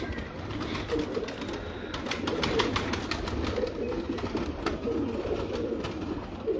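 Teddy pigeons coo steadily and softly nearby, their low, repeated calls overlapping against a busy background murmur with occasional flutters and clicks.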